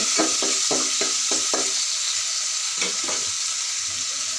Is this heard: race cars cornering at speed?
no